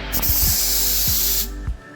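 A loud, steady hiss of steam escaping from a boiler that cuts off near the end, with a few faint knocks underneath.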